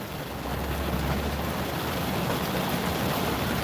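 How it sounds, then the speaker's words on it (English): Rain falling steadily, a dense, continuous hiss of drops at even loudness throughout, with no voices. "it started raining a little harder"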